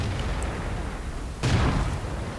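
A tank cannon fires once in the World of Tanks game, a heavy booming blast that rolls out over constant engine rumble and battle background noise.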